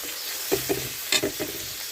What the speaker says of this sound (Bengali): পেঁয়াজ রসুনটা কিন্তু খুব কড়া ভাজবো না